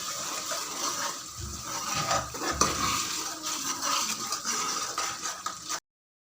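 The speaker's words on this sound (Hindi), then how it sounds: "अब हम इसमें 2 टेबलस्पून भर के दही के डालेंगे और इसको मिक्स करेंगे" A spoon stirs two tablespoons of yogurt into masala frying over high flame in a pan for a dhaba-style daal chicken, giving scraping, clinking utensil sounds over a steady frying hiss.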